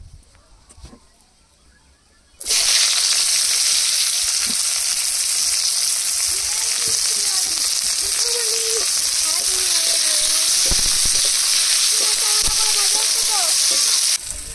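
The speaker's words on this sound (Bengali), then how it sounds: "এখানে 3-4টা রসুন নিয়েছি কুচিয়ে, আর 5-6টা পেঁয়াজ কুচিয়ে নিয়েছি, একসাথে ভেজে নেব।" Chopped garlic and onion go into hot mustard oil in a village kitchen wok, starting a loud, continuous close-up sizzle after a quiet moment, with faint squeaks and background sounds underneath.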